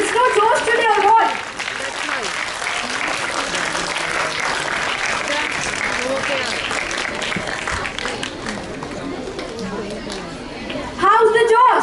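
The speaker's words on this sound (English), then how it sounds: "A very huge round of applause" Sustained audience applause at a school interclass patriotic quiz, a steady roar of many hands clapping with chatter beneath, and a voice breaking in briefly at the start and end.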